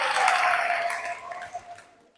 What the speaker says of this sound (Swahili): naomba tuwapigie makofi mengi tafadhali